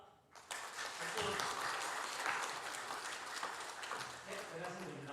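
A church congregation at a Sunday morning service breaks into applause greeting a scholarship recipient, a burst of brisk clapping that starts suddenly and carries on for several seconds.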